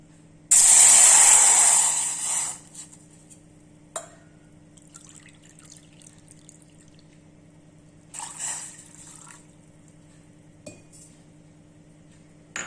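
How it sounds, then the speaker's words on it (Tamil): A loud burst of water pouring into a metal saucepan for about two seconds, then quieter kitchen clatter and a few faint splashes in a mostly still room. "இந்த கப்புக்கு ரெண்டு கப்பு தண்ணி ஊற்றிடலாம்"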